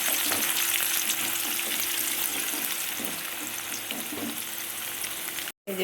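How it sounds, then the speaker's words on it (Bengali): Onion paste fries in hot oil for a biryani, making a loud, even sizzle with fine crackling that continues steadily, broken only by a moment of silence near the end. "তেলের মধ্যে পেঁয়াজের পেস্তাটা ভেজে নেব"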